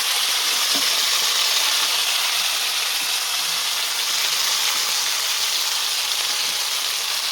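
Potatoes fry in a pan with a continuous close hiss of sizzling oil, steady and unbroken, without any talk.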